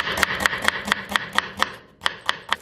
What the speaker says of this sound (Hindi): इसको हम बारीक बारीक काट रहे हैं।